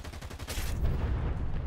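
Rapid, continuous gunfire from an aircraft's guns in a War Thunder air battle, a dense rattling burst that carries on through the whole stretch at steady loudness.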